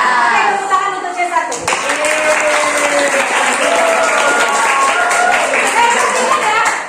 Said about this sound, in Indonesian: Oke, tepuk tangan untuk C1.